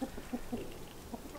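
A rooster in a backyard pen gives soft, faint clucks in a short rhythmic series, low and quiet with no talk over it.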